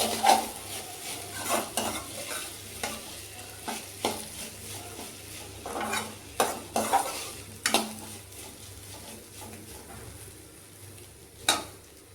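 Food being stirred in a cooking pot, with repeated irregular scrapes and clinks of a utensil against metal over a low background sizzle.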